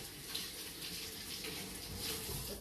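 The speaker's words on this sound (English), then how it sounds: "So I'm gonna rinse my hands now." Water from a tap running steadily over rinsing hands at a sink, a continuous close hiss and splash with no pauses.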